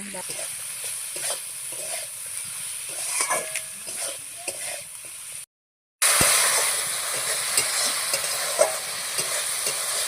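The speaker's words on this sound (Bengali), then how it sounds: "আমার সমস্ত মশলা দিয়ে কষানো হয়ে গেছে" Spice masala with capsicum sizzles in oil while a spoon stirs and scrapes the pan repeatedly; the steady frying hiss breaks off briefly in the middle, then returns louder and brighter.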